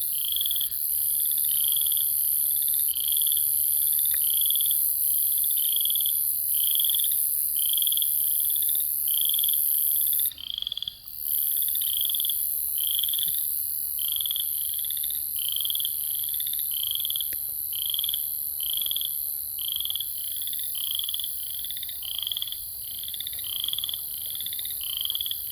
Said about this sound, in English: when you can sneak up on a frog that's still chirping